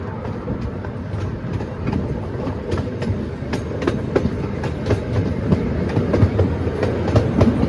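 The Santa Barbara Zoo ride train rumbles along its track in a steady, loud roar, with scattered metallic clicks and clacks from the wheels, heard up close from on board with no talking.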